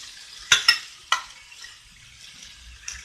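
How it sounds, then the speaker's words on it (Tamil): Sliced boiled eggs, three in all, going into a frying egg masala, with a few sharp spoon-and-pan knocks early on over a soft, steady sizzle. "இப்போ இந்த 3 முட்டையை இதில் சேர்த்திக்கலாம்"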